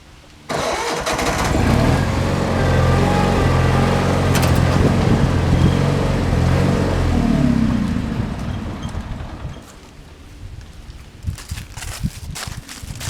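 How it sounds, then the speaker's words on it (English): A cantankerous motor cranks and catches, then runs loud and steady with a throbbing idle before easing off, followed by a few clunks and rattles. "If the motor will start, it's been cantankerous today."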